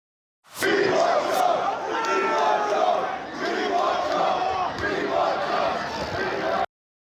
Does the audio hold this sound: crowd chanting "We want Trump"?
yes